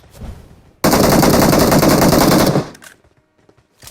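A sustained burst of automatic gunfire from PUBG Mobile roars loud and continuous for nearly two seconds, then cuts off to quiet scuffs.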